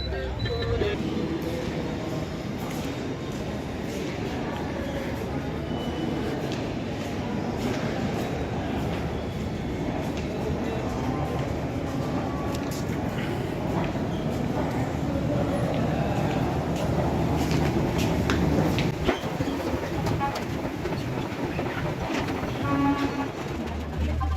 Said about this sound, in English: I'm today traveling by train from Amritsar to Delhi and then onwards to Bangalore